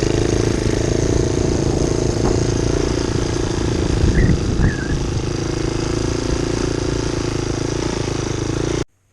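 A 1972 Honda CT70H small motorcycle engine runs steadily and close by with a loud, even putter that holds for several seconds before cutting off abruptly.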